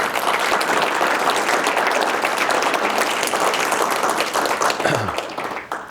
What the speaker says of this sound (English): I wanted us to give them a round of applause